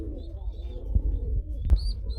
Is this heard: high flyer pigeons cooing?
yes